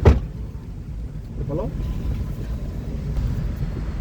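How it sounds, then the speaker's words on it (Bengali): A car driven at a driving training centre gives a low, steady engine rumble from inside, after a sharp thump at the start, with a brief voice over the drone. "ইমরান ড্রাইভিং করতেছে"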